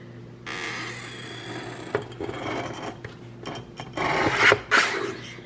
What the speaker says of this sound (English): we are going to trim literally like the smallest little smidgen off